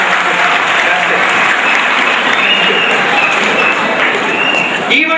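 Audience at a school annual day in Bhilai clapping together, a dense, steady applause that fills the whole stretch and stays loud throughout, then cuts off abruptly at the very end.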